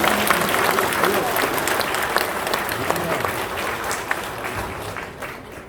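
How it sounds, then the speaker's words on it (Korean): A church congregation applauds warmly during a dedication service, steady dense clapping that slowly fades, with some voices underneath. "박수 한번 하겠습니다."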